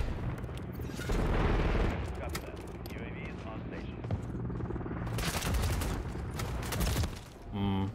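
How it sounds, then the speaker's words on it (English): Rapid bursts of gunfire from the video game Modern Warfare 3 fill the scene, loud and sustained with a brief lull, while players talk over the shooting. "Dude, he's still shooting."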